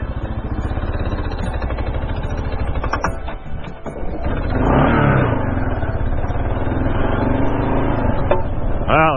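A 2024 Kawasaki KLR 650 single-cylinder motorcycle chugs steadily at low revs, then pulls away in second gear with a rising, straining engine note, close and loud throughout.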